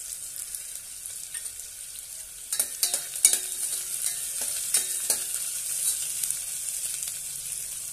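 Cumin seeds sautéing in a pan for Maharashtrian vangi bhat, with a low steady sizzle and a burst of stirring and crackling clatter midway that settles back into frying.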